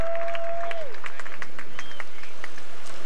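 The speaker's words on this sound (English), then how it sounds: "Let's give her a nice round of applause." Crowd applause at an outdoor tractor pull in Chapel Hill, Tennessee, for an unlimited modified tractor run, a distant wash of clapping from the stands with a tonal whine fading early and an announcer's voice faintly present.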